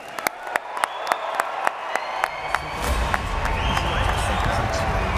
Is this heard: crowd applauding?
yes